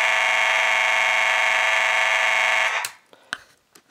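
A Monaco Vulcan 1 fire alarm system sounds again after a failed reset, a loud steady electronic buzzing tone that holds for nearly three seconds and then cuts off, leaving faint clicks.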